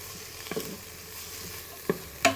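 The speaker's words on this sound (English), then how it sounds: "Cook them down a little bit until the onions are really soft." Onions and garlic fry in oil in a pot for a beef stew, a steady soft sizzle broken by a few quick scraping stirs near the end.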